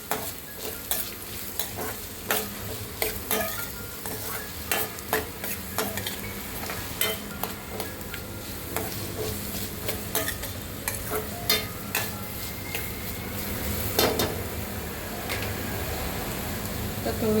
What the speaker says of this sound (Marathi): मी कांदा थोडा लवकर तळायला पाहिजे म्हणून थोडंसं मीठ टाकूया,